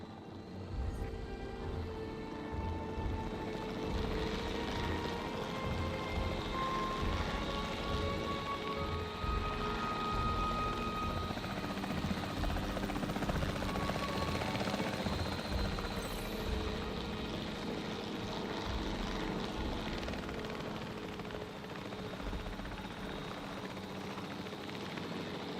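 A capture-team helicopter in the Jurassic World Evolution 3 video game drones steadily with a dense, constant rotor roar that holds at a similar level throughout, with no voices.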